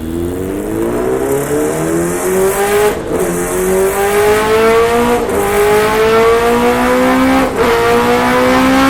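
A Honda CBR650R motorcycle accelerating on a Delhi road past a Royal Enfield, its engine rising in pitch through repeated gear shifts, loud and close with brief dips at each shift.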